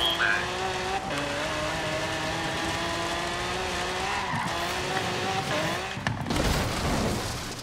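A 4GT race car in a racing video game drives with a steady, loud engine whine that shifts pitch through gear changes, broken by squealing tire skids and a thudding impact near the end, with no talking.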